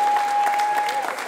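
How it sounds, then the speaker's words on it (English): A crowd claps in steady, continuous applause honoring veterans from Northeast Wisconsin, with a voice speaking over the clapping throughout. "For many, that's just the sound of people clapping."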